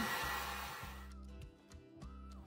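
Heat tool blowing hot air to dry stenciled paint on jeans, a loud steady whoosh that fades partway through and leaves a quieter whirring hum.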